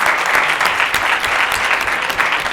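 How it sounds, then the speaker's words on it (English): A conference audience claps for the panelists, a dense, steady burst of applause from a crowd at close range that continues throughout. "Can everyone just give a round of applause again to all our panelists?"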